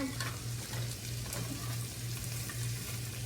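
Frozen green beans and onions sizzle and crackle in a hot pan, a steady close frying hiss with a low hum beneath it and no talking.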